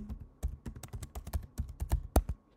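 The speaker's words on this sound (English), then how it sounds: "Then we type our name" A name typed on a computer keyboard in a georeferencing tool, about a dozen crisp, close keystrokes in an uneven rhythm, heard alone without talk.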